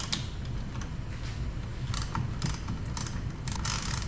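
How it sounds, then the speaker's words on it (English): A hand ratchet clicks in short quick bursts while a bolt is loosened on a small RC wheelchair build, close by over a steady background hum. "You can just go forward, back, with the ratchet."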